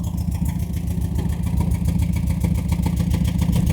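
A broken VW Polo engine idling close by, a loud, rough, rhythmic pulsing chug that holds steady throughout.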